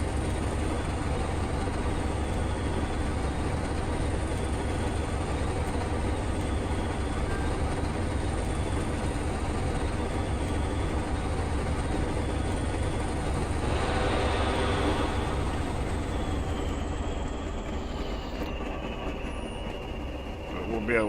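A Class 20 diesel locomotive in Train Simulator Classic runs steadily on a rural line, its engine drone and wheel rumble continuous and loud, with a brief squeal rising midway.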